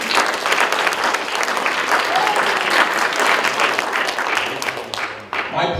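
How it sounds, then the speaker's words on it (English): A full room claps in a big round of applause after a talk, a thick, even wash of hand claps that holds loud before thinning at the very end. "Give her a big round of applause"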